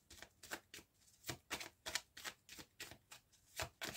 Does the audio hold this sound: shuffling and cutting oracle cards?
yes